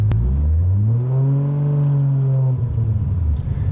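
A 1500HP Toyota Supra with a 2JZ engine revs up and back down while driving, giving a loud, close engine note that swells smoothly and then eases off, with no talking.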